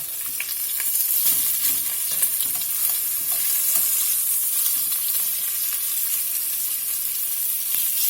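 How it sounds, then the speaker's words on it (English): Thin pork chops browning in a pan, two at a time, with a steady bright sizzle of frying fat and occasional scraping stirs, close and continuous without speech. "I'm going to do 2 chops at a time, just brown them off on each side."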